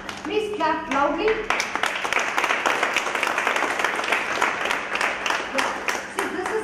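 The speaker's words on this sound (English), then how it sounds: "Please clap loudly." A room full of listeners at a talk breaks into loud, dense, sustained applause after a few spoken words, the rapid clapping filling the space for several seconds.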